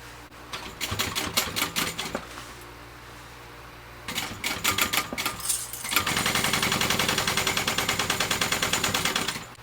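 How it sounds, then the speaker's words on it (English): Sewing machine top stitching along the edge of a zipper pocket on a backpack, running in short rattling bursts, pausing, then settling into a longer continuous whirring stitch run. "I'm folding that edge down that we just sewed, and I'm going to top stitch that into place"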